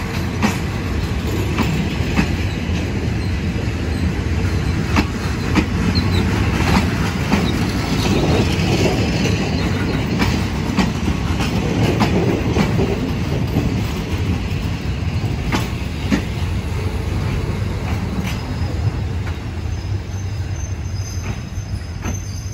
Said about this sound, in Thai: ถึงสถานีสุราษฎร์ธานีแล้วครับกับรถรวม